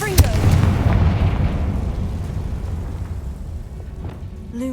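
Confringo fire spell exploding in the wizard game Hogwarts Legacy, a deep blast at the start followed by a long rumbling roar that slowly fades.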